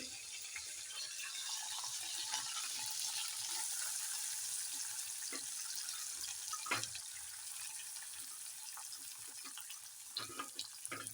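Chopped onion and green chili fry in hot oil in a kadhai while making spicy upma, giving a steady, close, dense sizzling hiss throughout with a few brief louder crackles and no talking.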